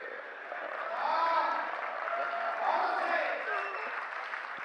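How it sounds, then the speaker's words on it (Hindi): A hall audience at a Hindi comic poetry recital keeps up a steady wash of applause, moderately loud and sustained, with a voice speaking over it. "पीछे वालों की तालियां कम आ रही है साहब"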